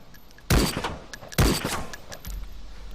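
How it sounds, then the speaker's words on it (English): Two loud, close FN FAL assault rifle shots ring out in the DayZ video game about a second apart, each a sharp crack with a short ringing tail, followed by a low mechanical thump. "So let's fire a couple of shots off."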